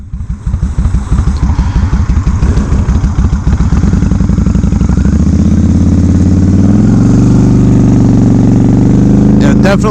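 A motorcycle with an engine over 800cc revs loudly close by, its exhaust pulses quickening as it pulls away and climbs through the revs, with a brief clatter at the end.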